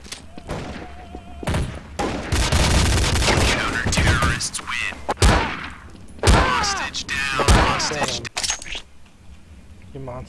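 Rapid bursts of gunfire ring out in Counter-Strike: Source on a match server, loud and close, mixed with thuds and game effects while players talk over the action.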